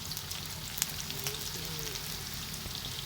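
Garlic sizzles steadily in hot oil in a pan while pancit bihon is being cooked, a continuous close frying hiss with faint crackles and no talking.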